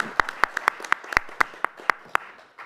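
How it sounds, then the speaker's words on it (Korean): Scattered, individual handclaps from a modest audience at an architecture industry panel discussion. The claps are sharp and fairly close, with about a dozen spaced unevenly over a few seconds rather than forming a continuous roar. "모두 큰 박수 부탁드립니다."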